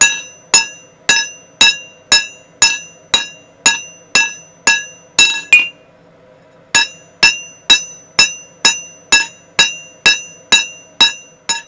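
Steady, evenly spaced hammer strikes ring out sharply while planishing hot steel at a forge, with a brief pause midway before the rhythmic blows resume.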